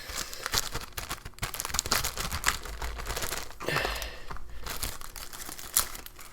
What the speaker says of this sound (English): this is obviously your little plastic bag